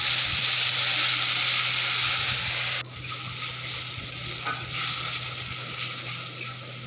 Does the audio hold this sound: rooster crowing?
no